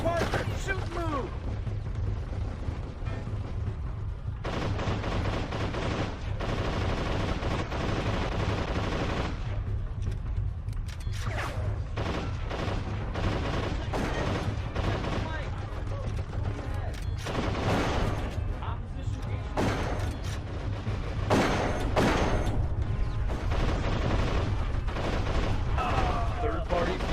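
Gunfire in the war shooter Darkest of Days, with repeated shots and bursts over a steady battlefield din, while voices call out commands at times.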